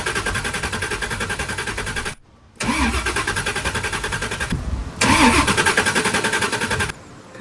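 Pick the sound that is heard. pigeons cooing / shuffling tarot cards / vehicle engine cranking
vehicle engine cranking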